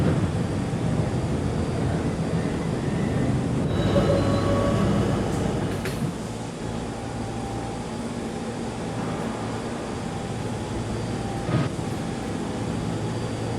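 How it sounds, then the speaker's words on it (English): Close-up rumble and clatter of an R68E subway train running along the express track, loud and steady, with a heavier roar for the first six seconds that then eases to a lower continuous rumble and a few sharp metallic squeals. "Here we have an R68E train on the express track."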